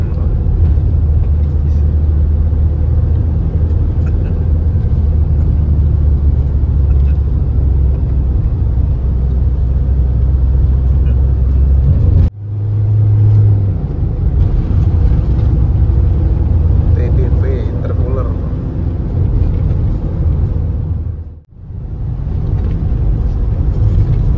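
A Damri bus named Jurus Elang drives a rural route out of Wonogiri, its engine a heavy, steady low drone. The rumble surges and briefly drops twice, as if shifting gears, with no talking.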